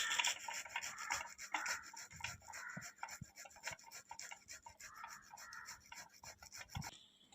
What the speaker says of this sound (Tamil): இதை வந்து நம்ம துருவி எடுத்துக்கலாம்.